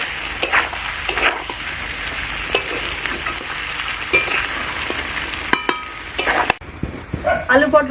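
Fried potatoes and pointed gourd go into a pan of hot spiced masala for a Bengali fish-roe curry, sizzling steadily and close with stirring scrapes, and a voice talks over the cooking.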